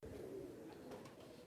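Pigeons on a Karachi rooftop loft give a steady low cooing murmur that runs unbroken through the moment, with no talking over it.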